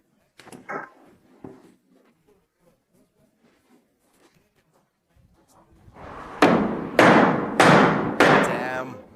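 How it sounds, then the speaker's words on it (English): A hammer taps four times in quick succession on a wooden window table top being fitted in a shipping container home. The taps are loud and close, and they come after a quieter stretch of faint handling noises. "nothing a little tap with a hammer can't fix."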